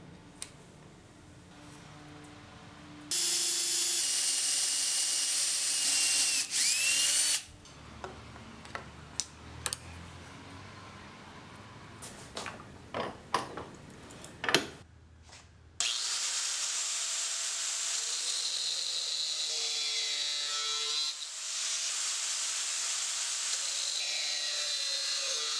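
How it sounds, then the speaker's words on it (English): Holes are drilled into wooden knife handle scales with basic tools, shrill sustained whining bursts of a small drill alternating with clicks, taps and light scraping, all close up with no talk. "Here I'm drilling the holes in the scales and cutting the pins out."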